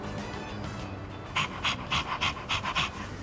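The dog Koromaru panting in the video game Persona 3 Reload, a run of quick rhythmic breathy pants, about nine in a row, clear over a steady background game ambience.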